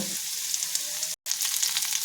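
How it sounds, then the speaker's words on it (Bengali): Fish heads and red-fried potatoes crackle and sizzle steadily in hot oil, a close, even frying hiss broken by one brief silent gap, with no voices. "ভেজে রাখা মাছের মাথা এর মধ্যে দিয়ে দেব"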